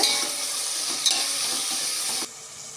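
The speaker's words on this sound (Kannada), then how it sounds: "ಟೊಮೆಟೊನು ಸ್ವಲ್ಪ ಚೆನ್ನಾಗಿ ಫ್ರೈ ಆಗಬೇಕಿದಕ್ಕೆ." Tomato and onions fry in a pan for egg biryani, giving a steady broadband sizzle with a few stirring scrapes, close and fairly loud, before the sizzle drops abruptly near the end.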